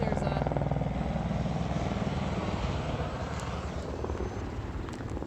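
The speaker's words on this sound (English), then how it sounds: "There's a lot of helicopter activity, unfortunately, going on." A helicopter's rotor thumps steadily in a fast rhythmic chop, fairly close and continuous, with a faint murmur of background noise, amid helicopter activity over a large fire.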